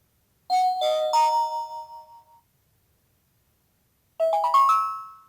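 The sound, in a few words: BOBLOV WA7-D body camera power-on chimes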